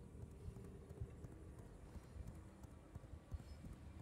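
Quiet, rapid hoofbeats of a horse galloping in the V Rising video game, a soft steady clip-clop with a few louder thuds and no talk.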